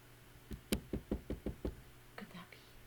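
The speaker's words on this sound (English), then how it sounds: "Suddenly, Percy heard a tapping sound." Sharp knocks on a door: a quick run of about seven distinct raps, fairly close, followed by faint softer sounds.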